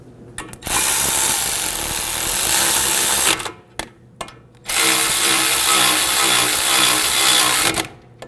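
Caliper bracket bolts on a 2001-2009 Volvo S60 front brake are driven tight with a power tool, two loud sustained bursts of mechanical whirring separated by short pauses and a few clicks.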